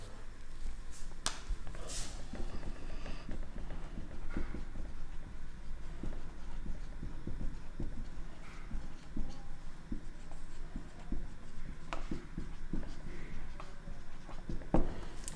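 Pen scratching steadily across paper as an answer is written out by hand, a close, continuous scribbling with small taps and pauses, alone without talk.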